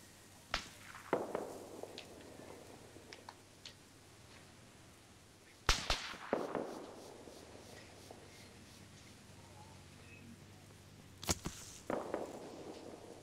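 Sharp distant gunshots crack across an open battlefield in Arma 3, three isolated reports spaced several seconds apart, each followed by a faint echoing tail over a low ambient hum.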